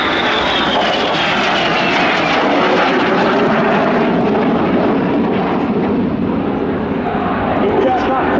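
Red Arrows jets fly a display manoeuvre at the Royal International Air Tattoo 2025, a loud continuous roaring engine wash with a slowly falling whine, under a commentator's amplified speech.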